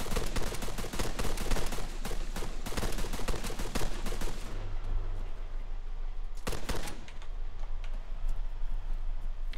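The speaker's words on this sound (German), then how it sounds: "Ich glaube, auf uns wird auch erschossen." Rapid bursts of gunfire in the video game Altis Life crackle densely for several seconds, then thin out into a low hum with a couple of sharp shots near the end.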